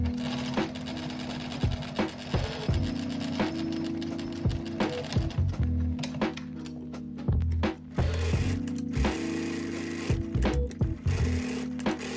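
Sewing machine stitching the side seams of a cropped blouse, a steady close mechanical whirr in several bursts separated by short pauses, alone without talk.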